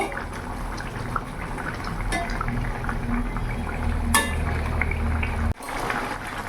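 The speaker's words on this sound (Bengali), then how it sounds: "কাঁচকলার বড়া দিয়ে আমি কিছুক্ষণ ফোটাবো" Raw plantain koftas simmering in a vegetarian curry, a loud continuous bubbling boil close by with a few faint utensil clinks and a brief break near the end.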